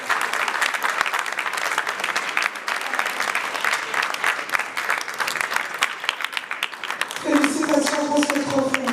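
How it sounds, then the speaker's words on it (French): An audience applauds an award recipient at an evening trophy ceremony for a Salon du Pagne africain in Brazzaville, with steady dense clapping throughout and a voice or music tone entering near the end. "On applaudit Madame Danielle Sassou Nguesso"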